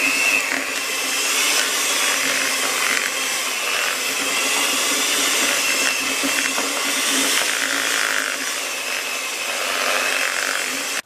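An electric mixer beating 250 g of butter in a bowl, a steady loud whirring drone with slight fluctuations throughout, no talking.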